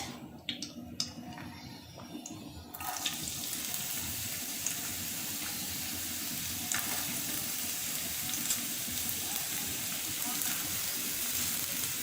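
Chopped onion frying in oil in a pan on a stove, a steady close sizzle that starts abruptly after a few seconds and holds evenly throughout.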